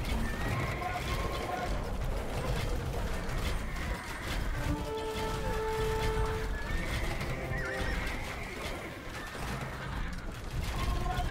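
Horses neigh and whinny amid clip-clop hoofbeats and clattering mechanical game sounds in a real-time strategy match, with several whinnies layered over a busy, continuous battlefield din while players talk throughout.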